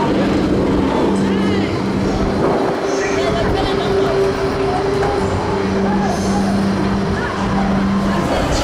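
Saw, a Gerstlauer Eurofighter roller coaster opened in 2009 at Thorpe Park, runs with a loud, sustained rumble and steady mechanical hum, while voices and outdoor crowd noise sit underneath.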